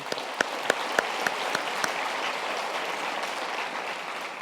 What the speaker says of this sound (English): I think we can give them an early hand of applause.